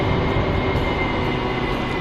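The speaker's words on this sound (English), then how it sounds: "I'm going to take the jet hot." Steady, loud broadband roar of an AV-8B Harrier jet engine in the DCS flight simulator, a continuous whine and rumble holding even throughout with no talk.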